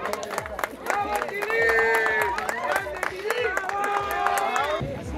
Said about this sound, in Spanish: un aplauso enorme para él.